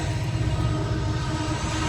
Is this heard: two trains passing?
yes